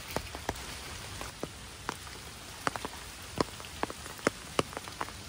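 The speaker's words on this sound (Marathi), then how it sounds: "आज सकाळी पाऊस चालू झालेला आहे थोडा थोडा." Light morning rain falling outdoors, scattered individual drops tapping sharply on a surface over a faint hiss, irregular and sparse, close and alone.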